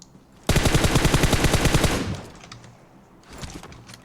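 Automatic gunfire in PUBG Mobile, a loud, rapid, evenly spaced burst lasting about a second and a half, followed by a quieter stretch and a few fainter shots.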